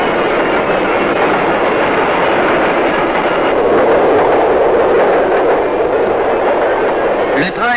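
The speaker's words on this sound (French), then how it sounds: "Le train est passé." A train passes on a railway track close by, a loud steady rumble and rolling clatter of wagons throughout, ending with a brief screech.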